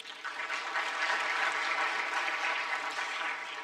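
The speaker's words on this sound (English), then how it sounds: "Another round of applause for him." Audience at a business forum applauding a young spoken word artist after his poem, a steady, even wash of clapping from a sizeable crowd with no voices over it.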